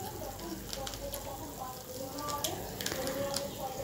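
Cloves and cardamom frying with onions in a pan give off a soft, steady sizzle with scattered crackles. The sound is moderately loud and continuous throughout.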